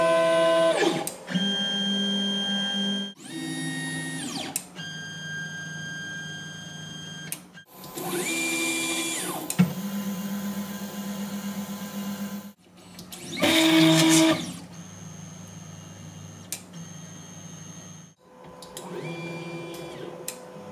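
Stepper motors of a 3D printer run by LV8729 drivers whine and buzz in a series of back-to-back movement bursts, with shifting tonal pitches separated by brief pauses, fairly quiet and close.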